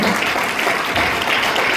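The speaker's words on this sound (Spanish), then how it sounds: "Ahora denle un fuerte aplauso al Señor Jesucristo." Church congregation claps loudly during a sermon, a dense steady wash of many hands filling the short stretch without a break.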